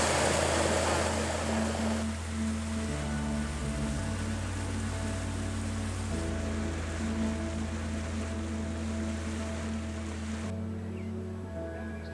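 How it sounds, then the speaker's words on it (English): A boat motor drones steadily on the water during a waterfowl hunt, its pitch shifting as the engine changes speed, with wind and water noise throughout. "And Warrior loves a good ride the boat."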